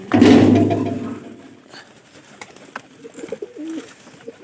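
A pigeon gives one loud, close coo at the start, followed by quieter scattered coos and faint rustling in the background.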